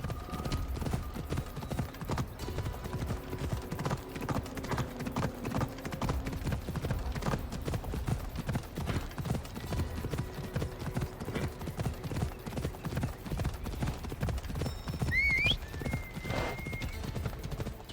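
Horse hooves in Assassin's Creed Odyssey clip-clop in a steady, continuous rhythm throughout, with a brief whinny near the end under faint game ambience.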